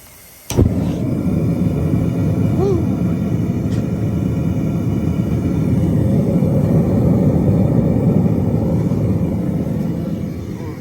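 A VEVOR 10 kg propane gas metal melting furnace burner lights with a sharp onset and then roars steadily and loudly as a broad, constant rush that swells slightly over the following seconds, with no talking.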